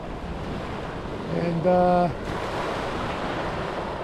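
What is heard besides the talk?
ocean waves on a beach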